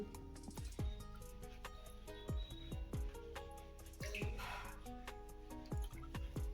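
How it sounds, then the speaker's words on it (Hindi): Wet sloshing and dripping water with repeated splashy strokes as rice grains are rubbed and rinsed by hand in a bowl, close up and steady. "चावल को हम अच्छे से मल कर धो लेंगे।"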